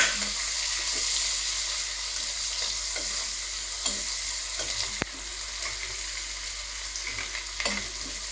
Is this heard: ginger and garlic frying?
yes